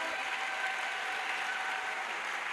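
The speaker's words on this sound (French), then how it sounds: "Acclamation." A church congregation at an evangelistic crusade applauds and cheers, a steady, dense wash of clapping from a large crowd that fills the space without pause for the whole stretch.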